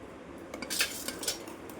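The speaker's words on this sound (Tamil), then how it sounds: "குக்கர் எடுத்திருக்கேன்" Metal clinks and clatters of a pressure cooker being handled in a home kitchen before cooking mutton chukka, a few light knocks close by with quiet room tone between.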